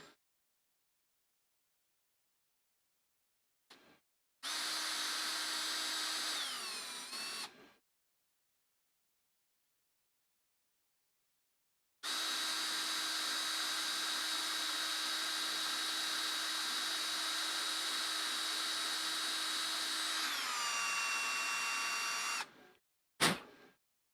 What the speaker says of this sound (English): we just quickly ream these out